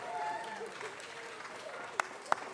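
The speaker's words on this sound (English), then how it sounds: "Let's give them one more round of applause." An audience at a city council meeting applauds visiting third graders with soft, distant clapping, while voices talk over it and two sharp knocks sound near the end.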